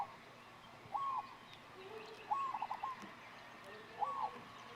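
A male zebra dove on Kaua'i gives three short, soft cooing calls, spaced about a second apart over faint outdoor background noise.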